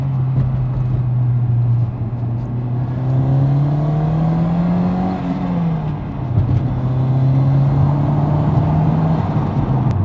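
A 1995 Toyota Celica GT-Four's engine pulls hard in second gear, its drone rising steadily and loudly close by, dipping at a shift around the midpoint before climbing again.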